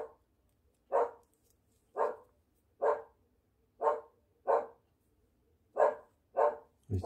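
A dog barks in a steady rhythm, about ten single sharp barks spaced roughly half a second to a second apart, clear and moderately close with quiet gaps between them.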